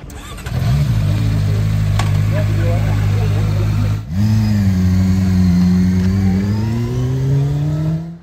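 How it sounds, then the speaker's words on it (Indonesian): A CFMoto 500SR Voom four-cylinder motorcycle engine fires up and idles with a steady drone, then is revved up again, rising in pitch, loud and close throughout. "Dan soal suaranya, 4 silinder, dengerin aja deh."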